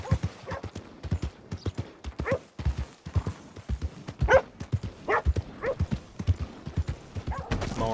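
Hooves beat in a quick, rhythmic clip-clop as a horse gallops in the video game Red Dead Redemption 2. The sound is moderately loud and continuous throughout, and a voice briefly speaks near the end.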